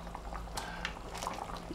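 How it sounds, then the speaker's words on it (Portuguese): A pot of shrimp stew with large grey prawns simmers, giving a steady bubbling, boiling liquid texture with occasional louder pops, close and moderate in level with no talk. "Eu tô fazendo um ensopado de camarão."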